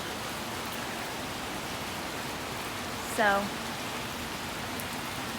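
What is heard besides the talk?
rain falling outside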